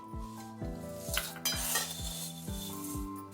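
A spoon tossing roasted poha chivda with roasted chickpeas and peanuts in a metal bowl, ringing metallic clinks about every half second over a dry rustling of flakes, close and quiet.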